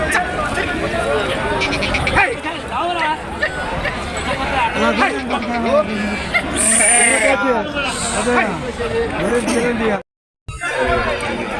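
Many sheep bleat loudly and repeatedly amid a crowd's busy chatter, a noisy Thursday sheep and goat market in Prakasam district, with overlapping calls near and far.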